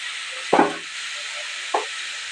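Tomato frying in a pan gives a steady sizzling hiss, broken twice by brief louder spatters or stirring scrapes.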